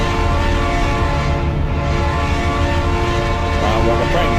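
Truck horn in Farming Simulator 22, a sustained, steady blare with a train-like tone that holds loud and unbroken throughout over a low engine rumble.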